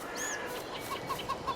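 Chickens on a working farm cluck softly in a few short, evenly spaced calls over a steady low background hiss.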